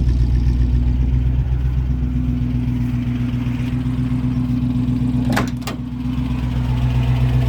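A 1972 Range Rover A-suffix engine idles with a steady, low burble, loud and close throughout, with a couple of brief clicks near the end.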